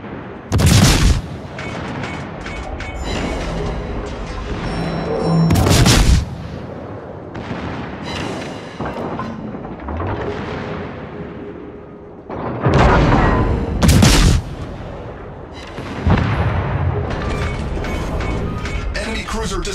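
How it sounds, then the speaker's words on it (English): A destroyer explodes and burns in a naval warfare game with a German cruiser, Mainz: repeated loud booming blasts and heavy gunfire roll through a dense, continuous battle din, with a voice talking over it. "Destroyer blown up. The ship is on fire."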